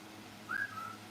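A single human whistle: a quick upward-sliding note followed by a shorter, softer level tone, heard alone over faint background noise.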